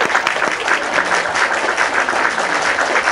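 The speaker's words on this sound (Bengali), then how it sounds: "আবারও চান্স, ও জোরে করতালি।" Loud, steady applause from a group at a bottle flip and phuchka eating challenge, a dense, continuous clapping wash that holds for a few seconds with little talk.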